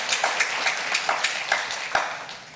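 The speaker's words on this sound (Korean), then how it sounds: "여러분 박수 한번 하겠습니다" Applause from a congregation at a university chapel worship service, a dense patter of clapping with a few sharper claps standing out, steady and moderately loud throughout.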